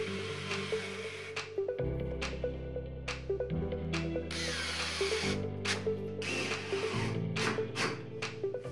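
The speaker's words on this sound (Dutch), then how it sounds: "Schroef de platen aan elkaar vast." Wooden desk boards screwed together with a power drill, repeated short bursts of motor whir stepping in pitch as each screw is driven, with small clicks between pulses, close up and without talk.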